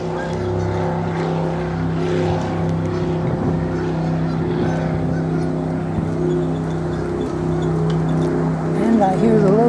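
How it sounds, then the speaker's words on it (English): Motorboats on a river hum steadily at a distance, with geese honking now and then and wind noise, while a person talks over the scene. "there's people out on the boat, out on the river, I should say"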